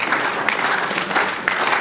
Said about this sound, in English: We'll have to keep clapping until they come out.